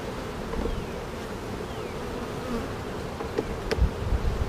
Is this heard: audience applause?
no